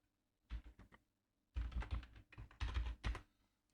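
A password is entered on a computer keyboard, quiet close keystrokes arriving in short bursts with brief pauses between them.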